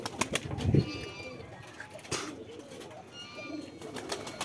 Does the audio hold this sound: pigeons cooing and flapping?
yes